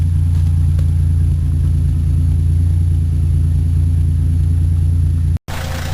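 1953 Pontiac engine idling with a steady, loud low rumble and an even pulsing beat, close up and alone, cut briefly near the end.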